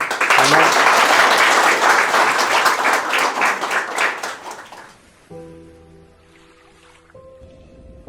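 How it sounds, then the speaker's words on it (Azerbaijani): Loud, dense applause from a school audience at a lyceum literary event honoring a poet, sustained for about five seconds and then fading out, followed by quiet, sparse sound with faint tonal music. "Ona görə biz ən böyük müəllimimizi yaxşı bir alqışlarla alqışlayırıq"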